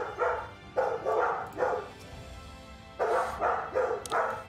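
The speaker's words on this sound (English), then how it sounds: "They'll stop barking eventually." Several dogs barking in Final Fantasy XIV, a rapid run of loud, close barks in two bursts separated by a short pause, with no talking over them.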